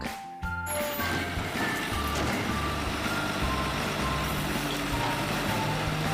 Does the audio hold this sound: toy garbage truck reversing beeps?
yes